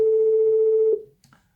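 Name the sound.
telephone ringing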